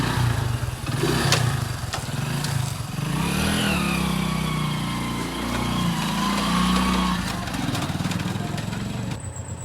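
A small motorcycle engine runs close by, its pitch rising and falling as it revs, with occasional voices in the background.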